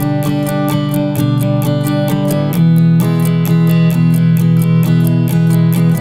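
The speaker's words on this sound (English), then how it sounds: "if you're playing that on acoustic, you could play just the chords, down upstrokes" Chords strummed on a guitar with steady down-up strokes, a continuous even rhythm of bright repeated strums that grows fuller partway through, played alone with no voice.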